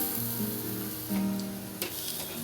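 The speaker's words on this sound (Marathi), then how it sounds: "मी आधी सालं काढून घेतली आणि आत्ता भाजून घेते" Ridge gourd roasts directly on a gas stove flame with a steady, close crackle and sizzle. Occasional sharper pops and a faint tonal hum sit underneath, and no one speaks.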